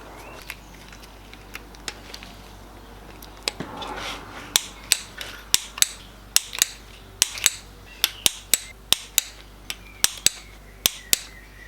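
A torque wrench tightens the rocker arm bolts on a TDI engine, making sharp, evenly spaced metallic clicks that grow steadier and more frequent, close up with faint background noise and no voices.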